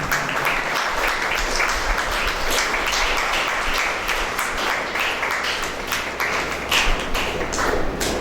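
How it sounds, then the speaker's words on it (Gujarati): A gathering in Rajkot greets a book launch with a long, even round of clapping from many hands, a thick continuous patter with a few sharper taps along the way. "આપણે સૌ તાળીઓથી વધાવી દઈશું."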